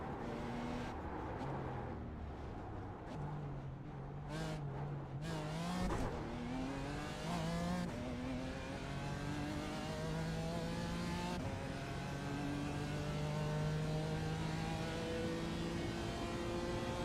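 LMP3-class race car engines in a multiclass video game race at Long Beach, a steady drone of revving and shifting engines with rising pitch sweeps as cars accelerate through gears, continuous and fairly loud.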